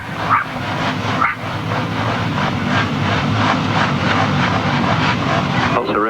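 Kawasaki sidecar outfit engines rev loudly and continuously at a grasstrack race, a dense roaring drone with a commentator talking over it.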